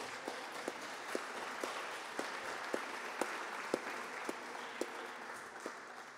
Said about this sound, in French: Donc on peut l'applaudir vraiment.